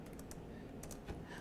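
Several quick keystrokes on a computer keyboard, soft taps over a steady background hiss, heard close with no voice.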